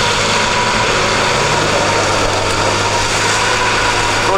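A UAZ Hunter with wide wheels, stuck and going nowhere, its engine running loud and steady at high revs while the wheels spin, a continuous close drone throughout with no voices.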